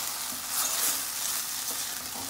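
Onions stirred in a hot frying pot for a Guyanese eddoes and baigan curry, a steady close sizzle with scraping spoon strokes running throughout, no voices.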